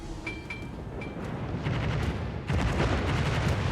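Naval gunfire in the World of Warships video game, heavy booming salvos and crackling blasts piling over each other, dense and continuous, growing louder midway, with no talk.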